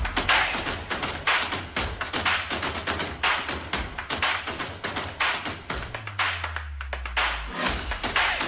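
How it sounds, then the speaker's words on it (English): An audience applauds the mayor of Pikit at a public event, with sustained crowd clapping throughout and a low droning tone sliding in near the end. "Let us all give him a warm round of applause."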